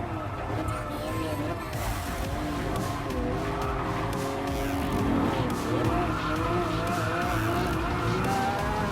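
Race cars in Gran Turismo Sport roar and overtake with squealing, skidding tires, loud and continuous throughout, while a player's voice talks over the game sound.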